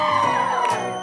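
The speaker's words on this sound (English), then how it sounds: "I need all the good-looking ladies to make some noise right now" Women in a wedding crowd whoop and cheer together in a brief loud burst of high shouting that fades a little toward the end.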